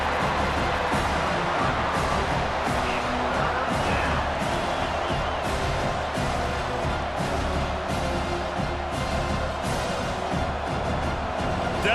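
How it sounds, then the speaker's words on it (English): Crowd cheering swells in the NCAA 25 football video game during a Bowling Green vs. Penn State matchup on third down: a dense, steady stadium roar that stays loud and continuous throughout. "Decibels rising as the crowd gets behind this defense on 3rd down."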